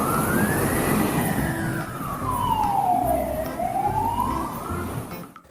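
A toy ambulance siren gives one long electronic wail that sweeps down and then climbs back up, steady and clear over a faint background hiss.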